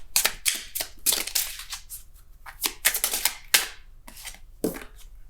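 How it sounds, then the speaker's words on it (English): Tarot cards being shuffled by hand in a series of crisp riffling, slapping bursts with short pauses between, close and fairly loud with no talking. "So I'm going to keep shuffling."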